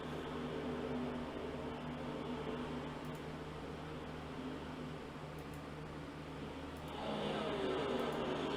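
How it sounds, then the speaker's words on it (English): Truck engines drone in a racing video game at Vegas, a steady, dense roar that holds level throughout and swells louder near the end, with no voices. "can you hear the truck engines again?"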